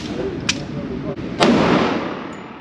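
Two sharp shots from a Smith & Wesson M&P 2.0 10mm pistol firing bear loads outdoors. Each crack is brief and loud, with a short decay, spaced about a second apart.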